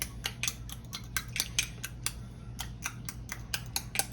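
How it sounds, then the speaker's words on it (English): Fruit being mashed in a glass jar for old-school fried pies, heard as a quick series of sharp clinks and taps, fairly close, over a steady low hum. "Kind of mash them up here in the jar"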